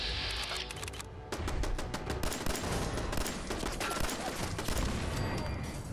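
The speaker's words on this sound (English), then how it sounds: "When Preston's pinned down by a turret" Rapid turret gunfire in the video game Fallout 4, dense bursts of shots rattling almost continuously and loudly for several seconds, with no talk over it.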